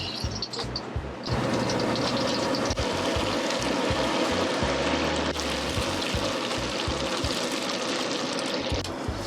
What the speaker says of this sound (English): Always wash your wok, you know?